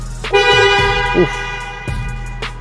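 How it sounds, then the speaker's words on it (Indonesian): A 2022 Honda HR-V horn sounds in two close, loud honks, a longer blast followed by a shorter one, with a brief voice in the car between them. "Klaksonnya oke. Keras dan elegan."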